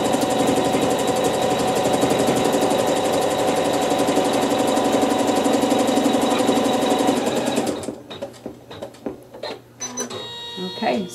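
A sewing machine stitches fabric in a fast, steady mechanical rattle for about eight seconds, close and loud, then stops, leaving only soft handling noises and light taps.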